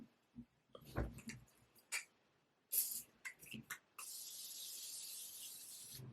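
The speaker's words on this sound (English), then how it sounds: "Do some setting spray, perhaps." Several short clicks and rustles lead into a steady, sustained aerosol hiss of makeup setting spray that runs to the end.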